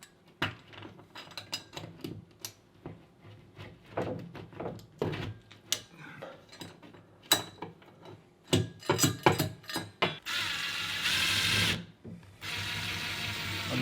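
Molly bolts are hand-tightened into a wall for shelving in a home office, giving irregular clicks, taps and metallic clatter at close range, then a bout of steady whirring toward the end.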